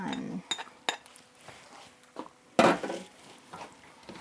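Pancetta being stirred into creamy pesto pasta in a pan, with scattered clinks and scrapes of a utensil against the pan and one sharper clatter midway, fairly close and moderate in volume.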